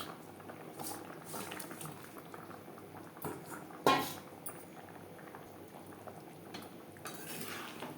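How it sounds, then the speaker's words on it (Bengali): Fish curry gravy (rui macher jhal) bubbles steadily in a pan, a soft boiling burble with a few clinks of utensils against the pan, one louder knock midway. "গ্রেভি বেশ ভালো করে ফুটতে শুরু করে দিয়েছে"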